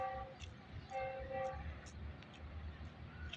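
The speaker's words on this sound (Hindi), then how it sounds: "यहाँ से बोलान मेल 3 अप का पास होगा" The Bolan Mail train, hauled by a GU20 locomotive, passes through Drigh Road railway station, its horn sounding in a few repeated blasts over a low rumble of rolling wagons, fairly faint and distant.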